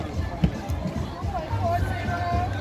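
Crowd at an inter primary schools sports day, a steady murmur of many voices and movement with occasional thumps and a raised call, fairly close and continuous.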